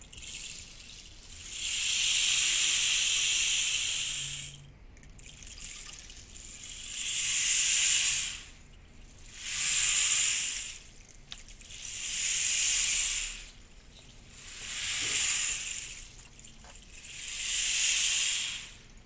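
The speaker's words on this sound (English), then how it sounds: "love is a rain stick." A rain stick is tipped slowly back and forth, giving six long, smooth hissing washes of trickling pebbles, each a couple of seconds long and separated by short quiet gaps, close and steady with no voices.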